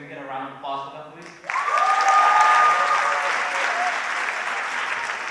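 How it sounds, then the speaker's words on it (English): Audience applause for the 35 actors of a student dance show skit, a loud sustained wash of clapping with cheers and whoops that starts abruptly after a few spoken words and holds steady to the end. "can we get a round of applause for them, please?"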